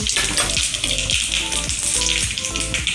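Cumin and mustard seeds sizzle in hot oil on a low flame for tempering, giving a dense, steady crackle with sharp little pops and spits throughout, close and loud with no talk.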